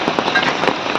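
Rain pours steadily in front of a roadside eatery at the Mahabaleshwar hill station, a dense continuous hiss with crackly drop patter close by, no voices.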